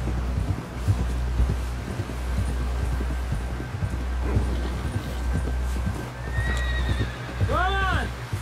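Horse in Red Dead Redemption 2 gallops with steady clip-clop hoofbeats throughout, ending in a loud, close whinny near the end, with wind noise and speech around it.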